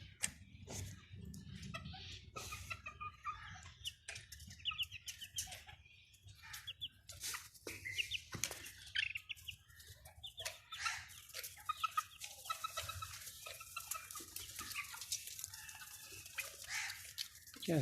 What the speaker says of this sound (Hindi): मुर्गी के बच्चे